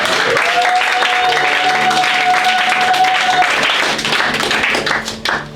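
A church congregation at a French-language sermon bursts into loud, sustained applause and cheering, a dense wash of clapping hands with voices mixed in and a long sung or shouted tone above, fading slightly at the end.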